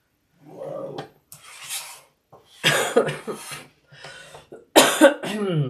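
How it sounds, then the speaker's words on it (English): Several harsh coughs close to the mic in irregular bursts separated by short silences, with strained breathing between them. "Sorry about the cough."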